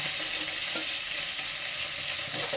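Fish and brinjal fry together in a pan with black cumin, giving a dense, continuous hiss of oil close up, with faint soft stirring pops and no voices.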